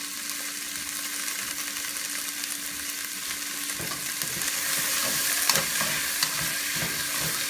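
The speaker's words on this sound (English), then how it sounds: "And I just stir fry it." Vegetables stir-fried with vegetable bouillon in a hot pan give a steady, fairly loud sizzle and hiss, with a few scraping stir strokes that grow busier toward the end.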